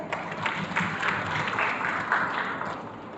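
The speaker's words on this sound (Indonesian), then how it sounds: "Kita berikan tepuk tangan" An audience applauds steadily at a seminar on oil palm held at Lemhannas in 2024, a dense wash of clapping that holds at even loudness throughout with no voices over it.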